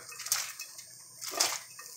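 Water from a tap pours into a soup pot on a home stove, a soft steady splashing rush that swells twice in short bursts, fairly quiet and close with no talking over it.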